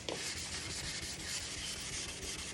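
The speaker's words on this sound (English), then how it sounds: "And then I'm scrubbing." A dry cloth scrubs a stainless steel fridge in steady, close back-and-forth rubbing strokes, a continuous hissy friction that fills the whole moment without talk.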